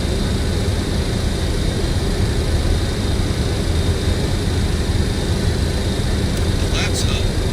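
Jet airliner climbing after takeoff in Microsoft Flight Simulator, a steady loud broadband engine roar holding constant throughout with no break.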